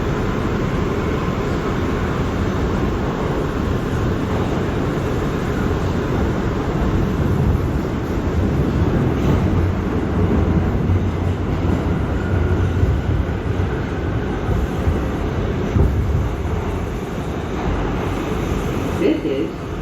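An R179 subway train on the J line runs steadily from Broad Street toward Jamaica Center, with a constant loud rumble and rattle of wheels and car body inside the carriage.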